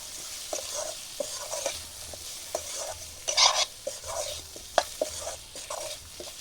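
Spices sizzle quietly in a pan while a utensil scrapes and stirs at a steady, irregular rhythm, with no voices.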